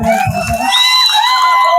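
A crowd at a public community gathering in Shira cheers and whoops loudly with overlapping shouts, a short burst of celebration close by.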